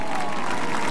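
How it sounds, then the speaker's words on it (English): A speedway crowd at a dirt late model race applauds Alabama driver Freddie Smith, a steady wash of distant clapping and crowd noise filling the whole moment. "How about a nice round of applause for the Southern gentleman,"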